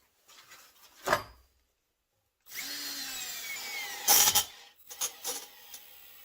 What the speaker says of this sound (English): just using a screwdriver with low gear and set for screw